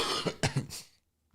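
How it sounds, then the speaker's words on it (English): A man coughs on a live stream, a burst of several harsh, close coughs in quick succession before fading to silence. "Pardon my cough."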